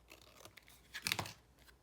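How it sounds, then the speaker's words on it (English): Scissors trimming excess paper card around die-cut bears while making a slimline card: a brief, faint cluster of crisp snipping and tearing-like cuts near the middle, otherwise quiet. "take my scissors, and just trim off what I don't need"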